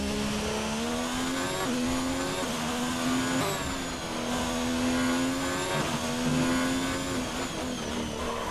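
A Formula One car engine in F1 2019 at the Australian Grand Prix in Melbourne screams at high revs, rising and shifting through gears continuously and loudly with no talk.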